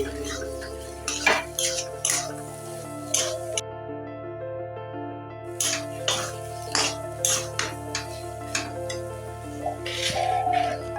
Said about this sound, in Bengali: এবারে দিয়ে দিচ্ছি এক চামচ চাট মশলার গুঁড়ো চাট মশলাটাকে ভালো করে মিশিয়ে নিচ্ছি